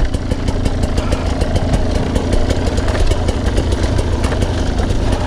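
A Sherco or KTM 300 TPI two-stroke dirt bike engine idles loud and close, a steady buzzing putter with a fast regular pulse throughout, no voices.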